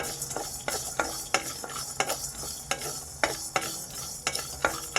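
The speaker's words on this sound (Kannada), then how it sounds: "ಎಲ್ಲನೂ ಹಸಿ ವಾಸನೆ ಹೋಗೋವರೆಗೂ ಚೆನ್ನಾಗಿ ಫ್ರೈ ಮಾಡ್ಕೊಳ್ಳಿ" Urad dal fries in oil over a low flame while a spoon stirs and scrapes the pan, giving a soft continuous sizzle with repeated scraping clicks and no voices.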